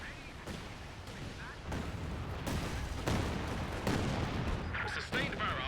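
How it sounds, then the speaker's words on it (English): A howitzer artillery barrage in Company of Heroes 2 sounds as a dense, continuous rumble of booming shots and blasts, several sharp impacts standing out over a loud, constant roar. "Sustained barrage is being fired as ordered. Artillery laid on target. Firing."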